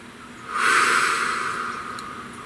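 A single deep breath, a soft airy inhale swelling at about half a second and easing slowly away, close and gentle with no talking.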